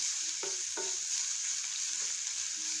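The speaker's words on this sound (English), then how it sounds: "Sprigs of thyme. Allow this to saute." Sprigs of thyme sauté in a pan for Jamaican ackee and saltfish, giving a constant bright sizzle with a few soft knocks and scrapes of stirring, close and moderately loud.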